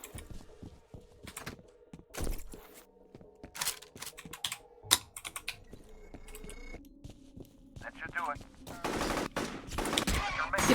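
Rapid weapon fire in the shooter FEAR as enemies are mowed down: dense, crackling bursts of shots with clicking mechanical sounds, growing louder and busier toward the end.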